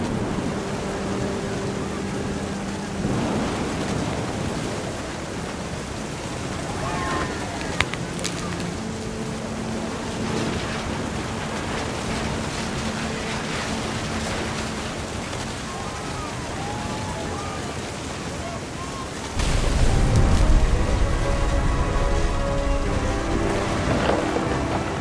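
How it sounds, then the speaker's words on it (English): Thunderstorm with steady heavy rain hissing throughout, a distant thunder rumble, and a louder surge of rain and wind near the end; continuous, dense and enveloping. "Thunder sounded much too close and full of angry power"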